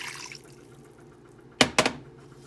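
Broth pours into a pot of stuffing with celery and onion in a short, wet splashing burst of two quick gushes, close by after a quiet kitchen hum.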